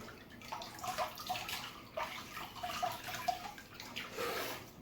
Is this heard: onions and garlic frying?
no